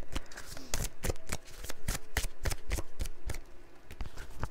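A deck of cards being shuffled up close, a fast run of crisp riffling snaps and flicks, steady and rhythmic throughout with no other sounds.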